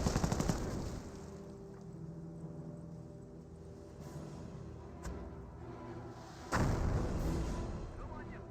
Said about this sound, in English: That is a mortar half-track